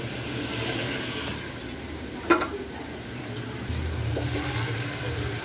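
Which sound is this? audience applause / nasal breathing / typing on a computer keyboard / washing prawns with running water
washing prawns with running water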